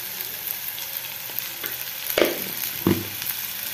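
Chopped onions sauté in a pan with salt, a continuous light sizzle broken by a couple of sharp louder scrapes as the pieces are stirred.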